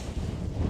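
Strong, cold wind buffets the microphone in a steady low roar with gusty swells in the Scottish hills above Blackwater Reservoir, continuous throughout and no voices.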